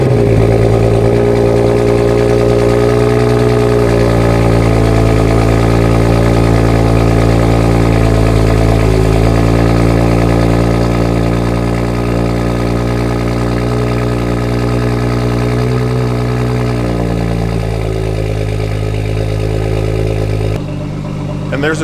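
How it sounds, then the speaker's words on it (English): Cold start of a 2013 BMW F30 335i fitted with a Corsa Performance exhaust and a VRS-F catless downpipe, a loud, close engine drone that holds steady, settling slightly lower partway through before cutting off abruptly. "Here is a cold startup of my BMW F30 335 with VRS-F catless downpipe and Corsa Performance Exhaust."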